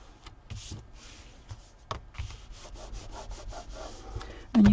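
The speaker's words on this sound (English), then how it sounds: "Rub off that extra glue." Excess glue is rubbed off paper on a mini envelope album, producing a series of soft, dry scraping strokes close up, ending with a louder thump.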